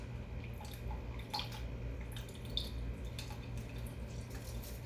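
Half a lemon squeezed by hand while making a lemon and rosemary vinaigrette, juice dripping and spattering in a few soft, close drips over a steady low background hum.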